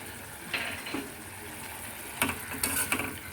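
Ginger and garlic paste sizzles quietly in hot oil while being stirred, with soft frying crackle and a few sharper scraping stirs close by.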